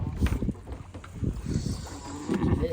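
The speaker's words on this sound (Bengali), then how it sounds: "ট্রলার কিভাবে ঘুরে নিচ্ছে তাই দেখো। ইউটার্ন নিচ্ছে ট্রলার।" A fishing trawler's engine chugs low and uneven as the boat swings through a U-turn on water in the Sundarbans, with wind buffeting the microphone over the throbbing.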